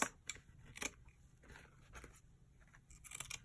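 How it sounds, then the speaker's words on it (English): Scissors trim the edges off a piece of card for a DIY country chic card display, giving quiet, close, irregular snips and crisp cuts spread across the moment. "if you didn't cut it off straight enough, you want to cut off the edges"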